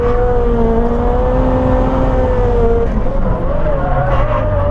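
Yashio Factory S15 drift car at Nikko circuit, its engine droning loud and close as the pitch holds and then slides down, with a faint voice under it.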